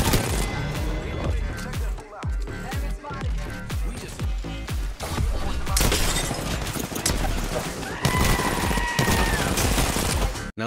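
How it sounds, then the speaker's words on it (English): Rapid bursts of RE-45 pistol fire in an Apex Legends battle, with dense overlapping gunshots, impacts and game effects filling the whole stretch at close, loud range. "I don't normally use the RE-45, so you just pardon my shots, okay?"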